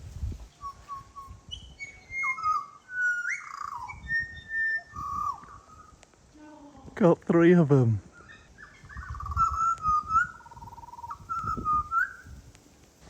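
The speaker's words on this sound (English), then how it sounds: "I think these are the butcher birds. And the sound of these is absolutely incredible" Butcher birds in a tree trade clear, fluting whistled calls and warbles, a pair singing near and loud with melodic phrases throughout, while a person talks quietly between and over the song.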